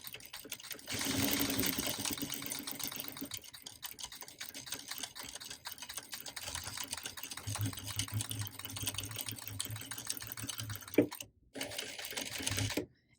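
Sewing machine stitching a curved seam, a continuous close mechanical whir with fine rapid ticking that runs steadily before stopping briefly near the end.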